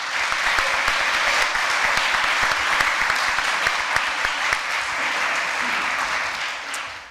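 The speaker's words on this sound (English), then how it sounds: "A round of applause for their leadership and perseverance." Steady, dense applause from an audience at a community gathering, sustained and fairly loud for about seven seconds with no pauses.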